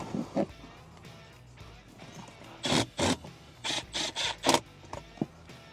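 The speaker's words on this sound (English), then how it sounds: "use the impact wrench" An impact wrench tightening the bolts of a seat back MOLLE panel inside a Ford F-150 Tremor, firing in a string of short, sharp rattling bursts with brief pauses between them, loud and close.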